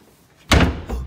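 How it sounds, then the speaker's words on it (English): One heavy door slams shut nearby with a sudden loud thud, a brief rattle and a quick second knock as it settles, in an otherwise quiet room. "Guys, why is the door closed all of a sudden?"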